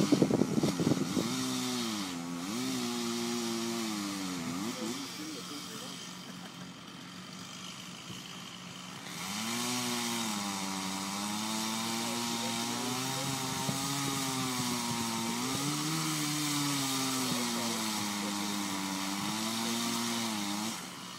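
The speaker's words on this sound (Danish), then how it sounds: "så begynder motorsaven at drille lidt" A chainsaw runs loud and close during rescue training, its engine note dipping and rising as it labors through cuts, with a brief quieter stretch before it revs steadily again.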